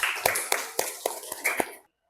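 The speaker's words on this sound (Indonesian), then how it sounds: "Tepuk tangan dulu untuk Safa." A classroom group claps together for a student, about seven crisp, evenly spaced claps in unison, then the sound cuts off abruptly into silence.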